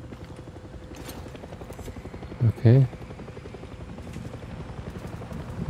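A helicopter's rotor chops steadily in the background of the video game Far Cry 6 while a voice speaks briefly over it.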